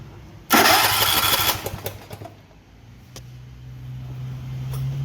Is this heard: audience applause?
no